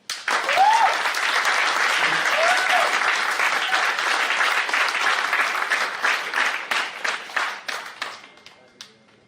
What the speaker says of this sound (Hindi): आप लोग एक ताली बजा दीजिए।